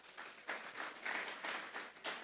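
A church congregation claps together in an even, rhythmic beat, heard faintly and somewhat distant, with no talk over it.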